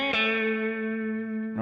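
An overdriven Les Paul electric guitar strikes a single chord that rings out, thick and saturated. It sustains evenly at close range for over a second, and a fresh pick attack comes in at the very end.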